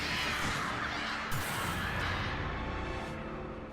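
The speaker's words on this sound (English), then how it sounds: "No, that's 3 groups of birds." Crows caw in the video game Alan Wake Remastered, a steady layered cawing and rustling that fills the whole stretch at constant loudness, with a brief swoosh near the middle.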